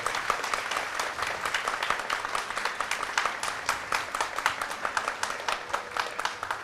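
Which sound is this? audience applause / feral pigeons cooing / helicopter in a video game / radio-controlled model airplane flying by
audience applause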